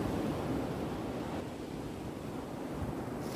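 Sea waves washing in at Agonda beach in Goa, a steady broad rushing roar of surf with some wind, continuous and loud, no voices.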